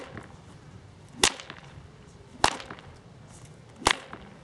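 Three sharp whip snaps ring out, spaced over a second apart, as the whip is swung around a horse in gun-breaking training, close and clear over quiet background.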